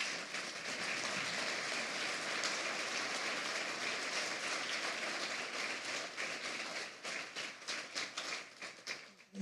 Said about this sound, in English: would you please stand and let us give you a big round of applause